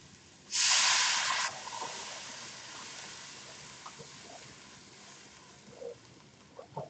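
Water poured into a hot pan while cooking Singapore chilli crab gives a loud, close sizzling hiss that bursts up and stays strong for about a second, then eases into a long, softer sizzle with small pops and crackles.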